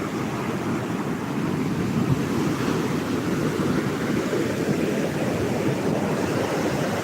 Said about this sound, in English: Oh, the waves are coming up over the bank here.